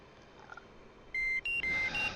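Home fuel warning buzzer in a flight simulator game gives four quick alternating-pitch electronic beeps, loud and clean above a steady low cockpit engine drone.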